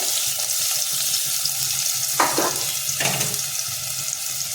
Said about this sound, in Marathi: हे बघा आपलं तेल चांगलं तापलेलं आहे। आपण आधी कांदा घालूया